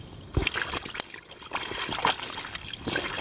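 Water sloshes and splashes in short, irregular bursts close by as clothes are swished and squeezed in cold water inside a dry sack, with a crinkly rustle underneath.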